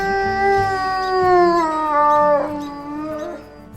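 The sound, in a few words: wolf howling in WolfQuest video game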